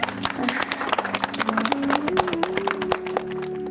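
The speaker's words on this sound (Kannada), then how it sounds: "ಚಪ್ಪಾಳೆ." A crowd at a gathering in a Kannada TV serial claps together, a dense, steady patter of applause with a tonal music or voice line running underneath.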